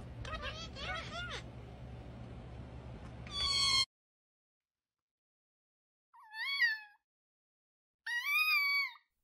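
A cat meows from inside a dead potted plant: three short, close, clear meows separated by silences, following a few seconds of noisy background with faint chirpy sounds.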